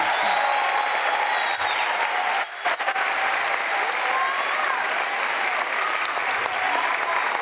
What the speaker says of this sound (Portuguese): com destaque para o ministro Paulo Pimenta, a quem pedimos uma salva de palmas